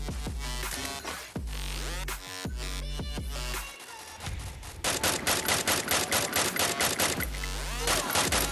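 Gunfire in the Free Fire mobile game sounds as loud bursts of rapid automatic shots and single cracks, with short pauses between volleys and a dense rattling stretch in the second half.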